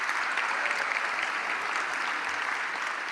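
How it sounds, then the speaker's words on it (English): A school audience at a high school awards ceremony applauding students, a steady, dense wash of clapping that holds evenly throughout. "I think they deserve another round of applause for all their accomplishments"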